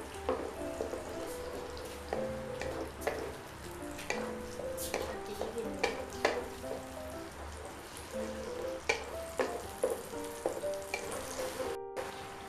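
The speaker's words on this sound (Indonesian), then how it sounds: "Kita aduk-aduk aja ya." Spices and two bay leaves frying in oil in a non-stick wok, stirred with sharp scraping taps and clicks over a steady soft sizzle, close, with no talk.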